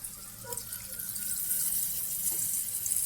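Water being poured into crab curry, a continuous splashing, running-water rush that starts lightly and grows fuller and steadier, close by and heard alone.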